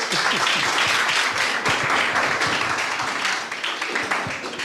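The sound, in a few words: audience applause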